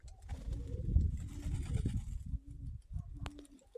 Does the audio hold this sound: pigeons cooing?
yes